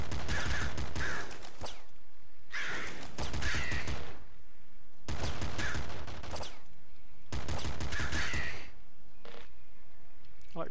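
Machine gun firing in the Nuclear Throne video game: four dense bursts of rapid shots, each lasting about a second, separated by short gaps, loud and close with game noise between.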